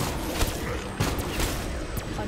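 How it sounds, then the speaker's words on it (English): Video game explosions and gunfire burst in a dense, noisy stretch, with several sharp blasts standing out over constant background clatter while a player talks throughout. "Explosions!"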